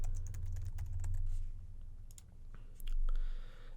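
Fingers type a password on a computer keyboard in quick, close clattering bursts over a low hum, with a short pause midway.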